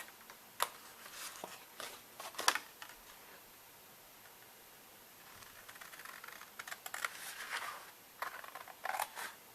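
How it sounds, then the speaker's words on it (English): Scissors cut fabric for a mail carrier bag, producing close, sharp snips and clicks in irregular clusters, with a quieter stretch midway. "So this one I'm just using my scissors."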